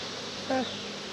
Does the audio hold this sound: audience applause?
no